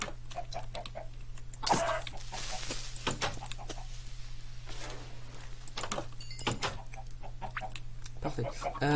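Chickens clucking inside a video game, short repeated clucks over a steady hum and game sounds, with a voice talking now and then.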